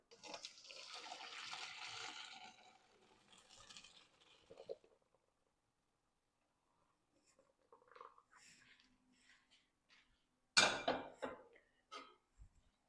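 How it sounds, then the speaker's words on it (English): Pasta water from vegan spaghetti pours through a strainer into a kitchen sink, a loud rushing splash for several seconds that then thins out, followed by quiet and a few scattered clatters and knocks. "I'm going to drain the noodles in the sink."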